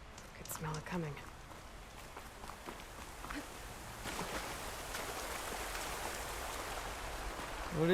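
Rain falls in the video game Horizon Forbidden West as a steady soft hiss that swells slightly midway, with a voice speaking over it at the start.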